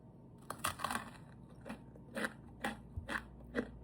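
Crisp crunching bites of a Pigbar triangle ice cream bar close to the mic, several distinct crunches at an uneven pace with quiet chewing in between.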